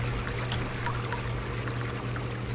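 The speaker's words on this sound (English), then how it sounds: "You can put 10 in at a time, and then you run the water through, and it'll give you some ores" Water runs steadily through a gravel sluice in a video game, a continuous soft trickling and pouring wash holding an even level throughout, with a low hum beneath and no talk.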